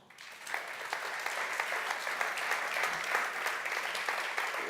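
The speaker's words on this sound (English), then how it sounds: "please, everyone, give a warm round of applause for Lara Whitman" A warm round of audience applause swells in quickly and holds steady, many hands clapping together at a moderate, distant level with no talk over it.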